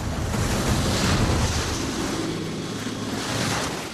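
Strong wind roars and ocean swell surges at sea around a high-speed twin-engine RIB as weather closes in, a steady loud rushing wash with gusty buffeting throughout.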